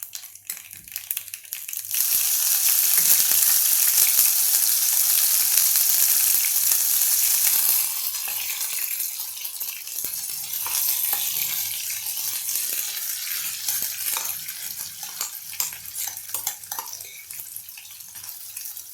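Spiced chilli chutney sautés in a pan, starting with a loud, close sizzle for several seconds and easing into quieter frying with stirring and scraping.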